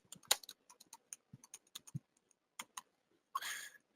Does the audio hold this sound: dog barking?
no